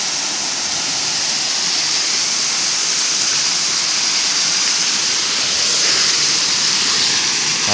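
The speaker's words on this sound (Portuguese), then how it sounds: "Cachoeira de pedra aí, ó." Water pours steadily over a stone waterfall on a farm in Espírito Santo, Brazil, in a constant, full rushing roar, close by and unchanging throughout.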